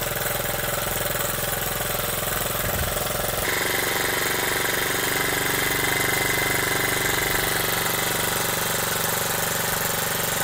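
A Honda Z50 small motorcycle engine idles continuously with a steady, buzzy putter close by, changing pitch slightly partway through, with no voices.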